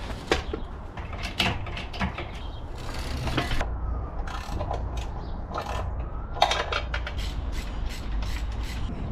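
Bolts are worked loose from the transmission of a Mini R53 with a ratchet during a clutch job, giving quiet intermittent clicking and metallic rattles in short bursts, with no talking.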